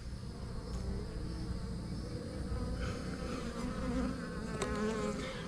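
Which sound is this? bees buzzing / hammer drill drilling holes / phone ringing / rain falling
bees buzzing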